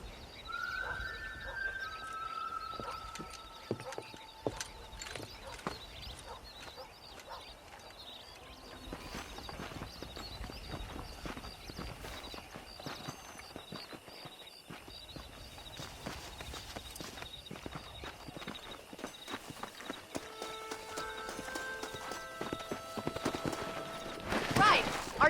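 Horse hooves clip-clop steadily in Red Dead Redemption while herding cattle to pasture, a rhythmic walking beat under game music and character dialogue, with faint animal sounds in the background.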